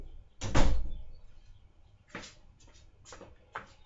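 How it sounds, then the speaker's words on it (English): A door banging shut once with a solid thud, followed by several fainter knocks and rattles, alone in a quiet room. "They didn't shut that door."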